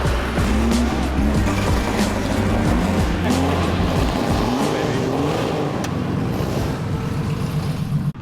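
RUF and hotrod Porsche engines on a mountain drive, a loud, sustained engine note from inside the car, rising and falling with shifts and revs, with tire and road noise beneath.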